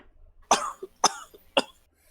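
Three sharp coughs in a row, close and fairly loud, evenly spaced with short gaps between them.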